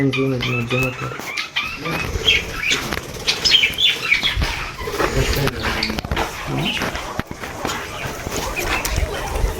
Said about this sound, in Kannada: ಗಿಳಿ ಮತ್ತೆ ಪ್ಯಾರೆಟ್ಸ್ ಲವ್ ಬರ್ಡ್ಸ್ ಕಾಣಿಸ್ತಾನೆ ಇಲ್ಲ ಹಾರಾಡ್ತಾ ಇದೆ